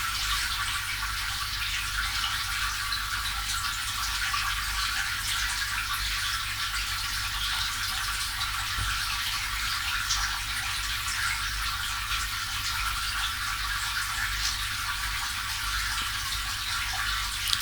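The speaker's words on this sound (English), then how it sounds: "If you can hear the water noise in the background, folks, that's my fish tank." Steady rushing water fills the background, a continuous bubbling hiss from a fish tank, with no voices.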